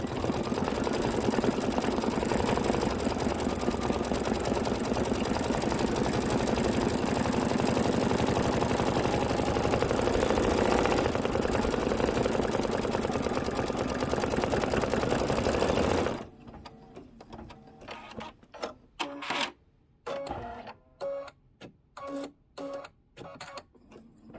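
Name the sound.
embroidery machine stitching a design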